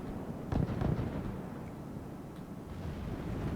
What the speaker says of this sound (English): Here the guns going off.